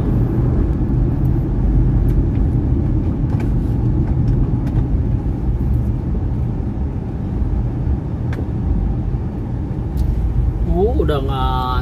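Steady low rumble of idling and creeping cars stuck in a traffic jam on a road toward the sea, continuous and close, with a voice talking over it throughout.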